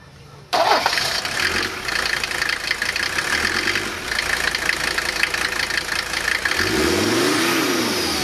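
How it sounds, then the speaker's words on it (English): A Mercedes 300D diesel with an aftermarket air intake kit starts up and runs loud and close, a steady clattering drone with a faint rising turbo whistle, no talking. "I don't know if you can hear the turbo spooling up, but it's much more noticeable"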